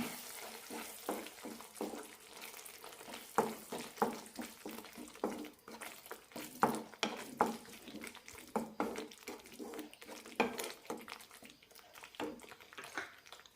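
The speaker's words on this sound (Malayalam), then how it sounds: "ഇനി ഇതിലേക്ക് ഒരു ടീസ്പൂൺ ഗരം മസാല ഇടാം നന്നായി മിക്സ് ചെയ്യാം" Garam masala stirred into a frying paneer curry, a faint sizzle beneath repeated soft scraping and tapping of a spoon in the pan, quiet and close, with no voices.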